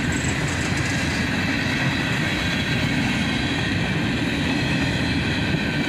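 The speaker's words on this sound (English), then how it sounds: "This was K821, empty phosphate hoppers heading south." A southbound freight train of empty phosphate hopper cars rolls past, a loud, continuous rumble and rattle of wheels on rails with rhythmic clatter from the wagons, heard close by with no voices.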